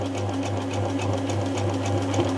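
A Singer 6268 sewing machine under repair for a feeding issue runs steadily in reverse at fast speed, a continuous close mechanical hum with a rapid, even needle rhythm.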